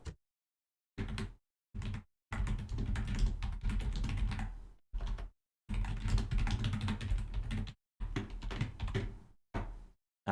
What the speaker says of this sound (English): there's going to be a lot of stuff like me typing around